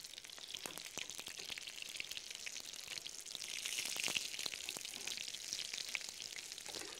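Fritters made with flour batter frying in hot oil in a pan, a soft, steady crackle and sizzle with scattered pops, close but quiet, swelling slightly midway.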